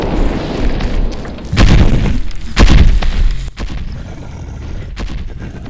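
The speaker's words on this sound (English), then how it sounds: "Now I'm going to get her to actually fire an actual rocket launcher." A rocket launcher fires in a video game, giving two loud booming blasts with an explosive low-frequency thump about a second apart, followed by a lingering rumble and scattered crackling debris.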